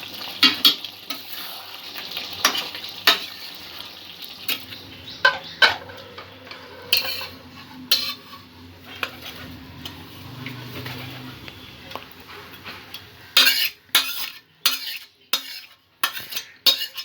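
Prawn and cauliflower korma scooped from a pan into a pot, with scattered clinks and scrapes of a metal spoon against cookware over quiet gaps and a faint background hiss, growing busier toward the end.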